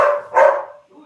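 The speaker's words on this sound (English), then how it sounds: "Oh, that's my dog." A pet dog barks twice in quick succession, fairly close and loud, with a fainter trailing yelp afterward, heard indoors in a home office setting.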